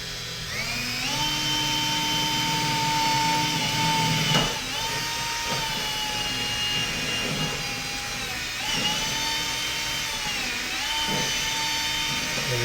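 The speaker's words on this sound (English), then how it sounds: "find another place to drill a hole and get that wire through the firewall" Electric drill boring a hole through a car's firewall packed with insulation during track-day prep, a close, sustained motor whine that slows and restarts in several long runs, each pitch sagging as the bit loads up.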